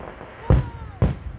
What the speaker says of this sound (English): this is a real fireworks show